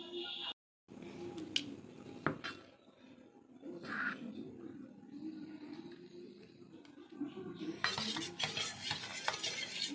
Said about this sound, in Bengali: টক জলটা গুলে নেবো